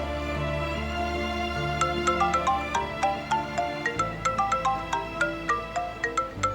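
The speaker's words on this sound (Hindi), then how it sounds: "वर्कशॉप से फोन है" A phone rings with a call from the workshop, its melodic ringtone repeating in a steady pattern of tones over a low background hum.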